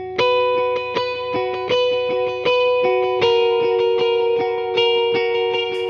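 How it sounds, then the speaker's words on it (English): Electric guitar plays a soft, mellow verse part with delay effects, each picked note ringing out and echoing in a steady rhythm, clear and close with no talking. "But I'll play that verse part with the delays on,"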